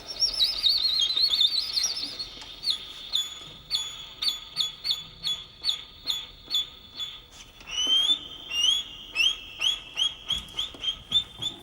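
A violin imitates bird song, with high whistling trills played high on the top string and a quick run of repeated chirp-like notes, bright and close.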